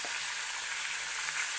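Tomato chutney with salt and turmeric sizzles in a pan while it is stirred. The frying hiss is brief, close and steady, with no talking.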